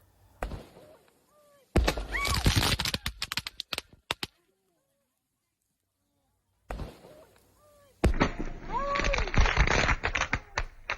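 New Year fireworks come down onto a group eating Thai hot-pot barbecue on Phu Thap Boek, bursting in two loud, dense volleys of crackling pops separated by a few seconds of near silence, with voices audible amid the bangs.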